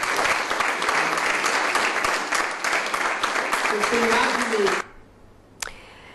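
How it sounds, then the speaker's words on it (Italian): Long, dense applause fills a packed cinema hall after a film preview, steady and loud for several seconds before cutting off abruptly into near silence, with one faint knock afterward. "Lunghi applausi nella sala gremita del Cinema Astra al termine dell'anteprima"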